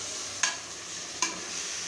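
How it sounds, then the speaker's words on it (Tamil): Paste sautéing in a pan, a steady close sizzle broken by two quick scraping stirs of a spatula, with no talking. "அதுக்குள்ளே என்ன ஆட் பண்ணி நான் பேஸ்ட் இப்போ வதக்க போகிறேன்"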